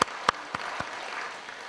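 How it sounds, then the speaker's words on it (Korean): Congregation applause during a Sunday church service, a few distinct claps at the start swelling into a soft, faint patter of clapping. "우리 주님께 감사와 영광의 박수 드립니다."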